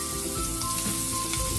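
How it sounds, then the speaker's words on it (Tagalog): Ginger sizzles in hot oil for chicken tinola, a steady close frying hiss running throughout with a faint tonal hum beneath and no talking. "nagmantika na. Lagyan natin ilagay yung ating luya again."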